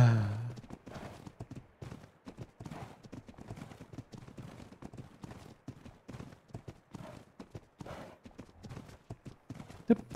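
Horse hooves clip-clopping in the survival game ARK: Ragnarok, a steady, fairly quiet rapid rhythm of hoofbeats continuing throughout, with faint voices underneath.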